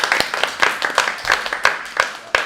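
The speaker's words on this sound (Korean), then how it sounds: "귀한 시간 내주신 코치님에게 박수 부탁드립니다." A small group claps for a visiting fitness coach at a bikini-athlete coaching session, with uneven, individually distinct hand claps and no talk over them.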